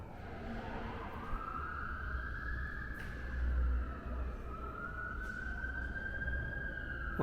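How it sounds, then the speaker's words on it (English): Fire truck sirens wail on the street outside a bath house in Hot Springs, Arkansas, a steady rising and falling tone heard at a distance over low traffic rumble, with a couple of sharp brief noises. "Wow, it's noisy on the street. Sirens."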